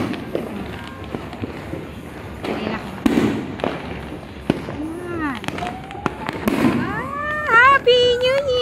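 New Year fireworks bang and crackle repeatedly at varying distances, with whistling rockets rising and people talking and shouting in the background.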